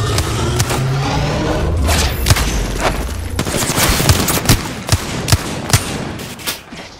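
Gunfire in a combat video game: loud sustained automatic fire for about three seconds, then a string of separate sharp shots and thuds that fade toward the end, with no speech.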